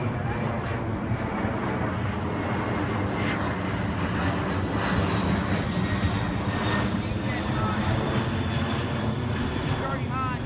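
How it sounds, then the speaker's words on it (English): An airplane flies overhead with a loud, steady engine roar that fills the whole stretch without fading, and faint voices may sit beneath it. "That plane's like flying all over the place."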